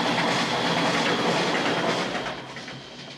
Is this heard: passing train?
yes